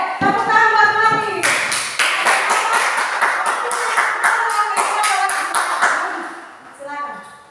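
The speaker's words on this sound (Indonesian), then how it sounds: "Oke, tepuk tangan buat Wati." A classroom of students claps for a classmate, a burst of scattered hand claps and taps that stays lively, then thins out as a voice talks faintly underneath.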